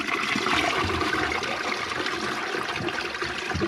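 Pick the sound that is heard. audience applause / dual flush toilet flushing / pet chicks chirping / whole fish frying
dual flush toilet flushing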